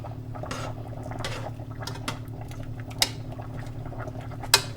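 Pasta being stirred in a pot of cooking water, with soft scrapes and sharp metallic clinks of a utensil against the pot over a steady low hum, no voices.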